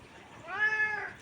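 A single short, rising-and-falling cat meow sounds close and fairly clear against a quiet background.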